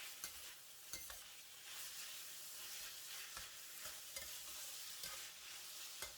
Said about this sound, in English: Stir fry for about 30 seconds or until the minced pork are well mixed with the seasoning